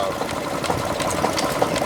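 A running 1/3 scale model of a 5 horsepower Galloway engine makes a fast, steady mechanical chatter with rapid rhythmic ticking, heard close and continuous throughout.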